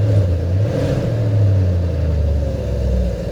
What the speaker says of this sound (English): Door open, you get to hear it again. This is the valves closed.